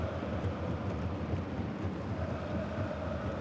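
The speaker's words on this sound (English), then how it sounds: "Windy conditions as well." Wind buffets the microphone at a rainy third-division football match between Borussia Dortmund II and TSV 1860 München, producing a steady low roar and rumble with faint rain hiss throughout.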